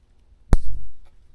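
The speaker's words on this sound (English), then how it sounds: "Nice little zip tie." A single sharp snap-like click as a zip tie is pulled tight on a KTM dirt bike, followed by a brief soft rustle, alone against near silence.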